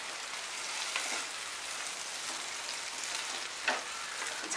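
Green chillies fry in a pan with taro stem, a soft steady sizzle with a few brief stirring bursts, fairly quiet and close.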